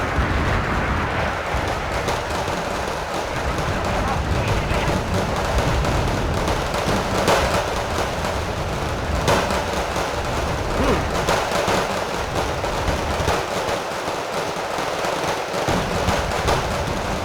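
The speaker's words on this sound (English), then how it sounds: "A relentless clatter of machine gun fire." Relentless machine gun fire in the war strategy game Wargame: Red Dragon, a dense continuous clatter of rapid shots and distant explosions blending into a loud, unbroken battle din throughout.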